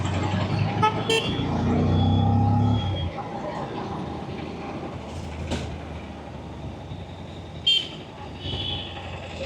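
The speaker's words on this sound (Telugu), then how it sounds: "హారన్ సౌండ్ చాలా దారుణంగా రికార్డ్ అవుతుంది" Vehicle horns honk over steady road traffic noise in Uppada town centre near Kakinada, India, a longer blast early on and a few short toots later.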